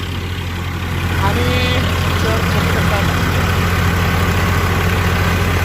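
A tractor engine idles with a steady low rumble that grows slightly louder after the first second, under someone speaking.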